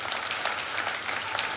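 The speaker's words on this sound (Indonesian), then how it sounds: "Tepuk tangan bagi Tuhan." A church congregation claps at a worship service, a brief, even wash of applause that sounds fairly distant and soft, with no voice over it.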